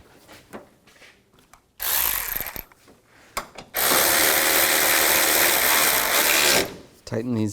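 Ratchet wrench clicks rapidly while tightening bolts on the battery tray support of a 1999-2006 Chevrolet Silverado 1500, two bursts of close, loud ratcheting, the second longer, with small handling noises between.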